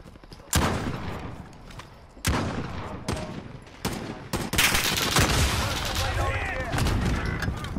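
Gunfire in the video game Warzone, including sniper fire: several sharp, loud cracks at irregular intervals, with a denser burst of shots toward the end over a busy game background.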